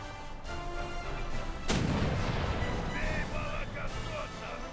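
Ship cannon fires in an online naval combat game: a single heavy boom lands midway over a constant engine and water drone, followed by a rumbling decay and scattered game tones.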